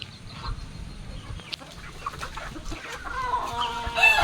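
Chickens and newly hatched chicks in a farmyard during rainy weather, scattered clucks and faint peeps close by, rising slightly toward the end.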